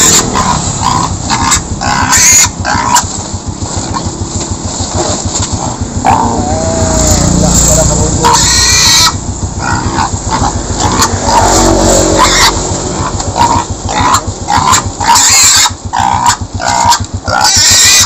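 Pig squealing close by near a container, repeated sharp cries over continuous handling noise and scraping, with a few short bursts of activity throughout.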